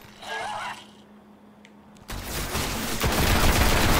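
Rapid gunfire in the video game Destiny on PS4, a dense burst of shots starting midway after quieter ambient sound and continuing loud to the end.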